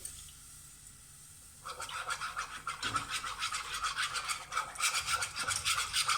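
Whisk scraping and rattling through milk, flour and butter in a bowl, a fast repetitive swishing that starts abruptly after a quiet moment and continues steadily, close up.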